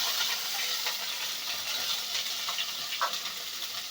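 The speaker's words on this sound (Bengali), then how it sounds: "এবার নেড়ে চেড়ে ভেজে নিব।" Garlic and onion frying in a pan for khichuri, giving a steady soft sizzle and hiss with faint stirring scrapes, close and continuous, with no talking.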